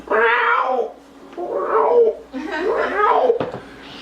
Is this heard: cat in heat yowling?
yes